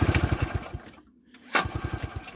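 A 1977 Honda Odyssey FL250 engine cranking with its spark plug out, giving a fast, even chugging rhythm that stops briefly and then resumes just as steadily.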